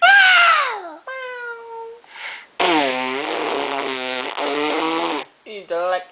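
Several drawn-out meows, some rising and falling in pitch, come in separate bursts close to the listener, with short gaps between them.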